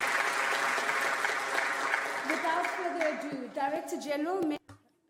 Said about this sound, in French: Une salve d'applaudissements, s'il vous plaît.